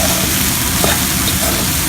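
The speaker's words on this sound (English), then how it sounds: "Keep mixing, guys." Vegetables for a Hyderabadi-style pulao or biryani sizzle loudly and evenly in a hot pan as they are stirred and browned, a dense continuous frying hiss.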